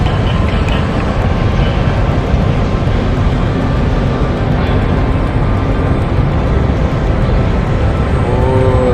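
A low-flying 3D-printed RC airplane passes nearby, its motor giving a steady, loud drone that holds through the whole stretch with no talking over it.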